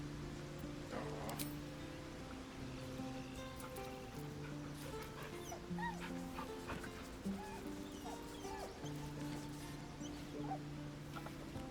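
Dog whimpering with a few faint yips in Baldur's Gate 3, soft and intermittent beneath steady game music and ambient noise.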